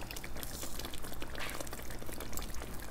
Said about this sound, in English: let's go ahead and give it a splash of some lime